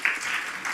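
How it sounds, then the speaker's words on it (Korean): A church congregation claps briefly during a Sunday service, a short, close burst of hand claps lasting under a second. "우리 박수 한번 치십시다."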